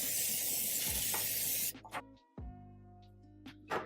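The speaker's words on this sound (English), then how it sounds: "I'm going to use this bacon spray to spray our pan with" Bacon-flavoured cooking spray hisses from a can onto a baking pan in one long close burst, followed by a few light clicks and clatters.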